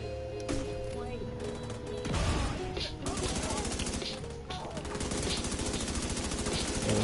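Rapid automatic gunfire from The Division 2 video game, loud and sustained with dense bursts of shots and mechanical clatter across the whole stretch, mixed with game effects.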